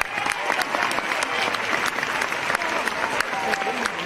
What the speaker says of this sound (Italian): Al sindaco Aldo Alessio i nostri applausi.